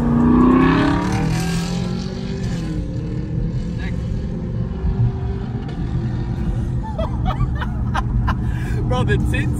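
A car on a 10-speed automatic pulls away hard from a 40 mph roll, its engine roar holding steady and loud throughout while people chatter and laugh over it.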